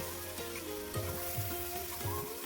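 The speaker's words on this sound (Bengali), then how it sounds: "আবারও কিছু সময়ের জন্য ভালোভাবে কষিয়ে নেব" Ground spice paste with turmeric frying in a pan for a chital fish curry, a steady sizzle broken by several scraping stirs of the spatula at a regular pace, close and alone.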